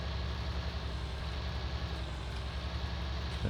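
A tractor engine in Farming Simulator 19 runs at a steady, low, droning idle with a constant rumble, and no talking over it.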